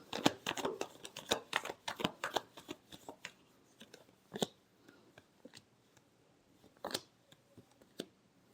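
Tarot cards being shuffled by hand, a quick run of crisp riffling snaps and flutters that thins into scattered slaps and taps, close and fairly quiet.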